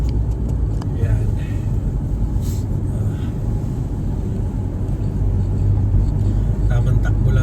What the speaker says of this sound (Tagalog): Tamang takbo lang tayo ng mga 80 pag dito sa highway.